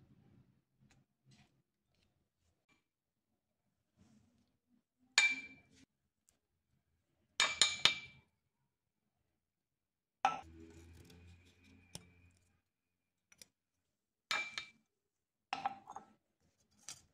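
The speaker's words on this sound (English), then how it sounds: "So we will scoop it out with a spoon and onto a dish to dry the remaining moisture off." A spoon scooping damp calcium acetate paste onto a dish: five or six sharp clinks and short scrapes of metal on ceramic, separated by silent pauses, close and fairly loud.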